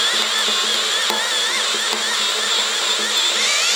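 A steady high-pitched whine of a Milwaukee cordless drill grinding continuously through metal without pause, loud and close.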